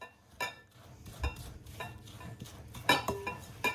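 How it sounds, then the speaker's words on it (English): A spoon scrapes and clinks against a bowl while melted butter, golden syrup and bicarbonate of soda are stirred together for Anzac biscuits, with close, irregular knocks and taps over a quiet background. "We're going to mix it now. Ready? Mix it all in."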